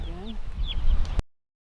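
A crowd of newly hatched chicks gives a few faint, high peeps over low rustling and shuffling, then the sound cuts off abruptly.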